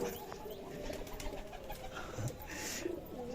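A pigeon coos softly in low murmuring notes, somewhat distant, amid faint background noise, with a brief sharp knock at the very end.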